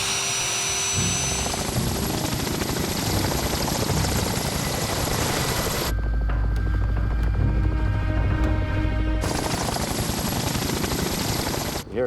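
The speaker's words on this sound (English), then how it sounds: "With the chopper ready, Lisa and Rich rush back to the dig site." An approaching helicopter's rotor thumps rapidly and loudly in a steady rhythm over Alberta's badlands, with a stretch where the chopping turns deeper and heavier before the broader noise returns.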